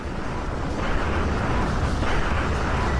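Dense, continuous battle noise from the video game Peripeteia, a steady wall of loud gunfire and explosive rumble with no gaps, close and unbroken throughout.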